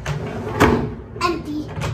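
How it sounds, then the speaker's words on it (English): Hotel room drawer pulled open, a short wooden slide and knock amid soft room noise, with a voice briefly heard nearby. "And what about the bottom drawer?"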